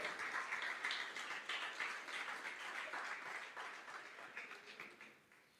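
A church congregation applauds in a quiet, slightly distant wash of clapping that rises early, holds, then slowly fades toward the end.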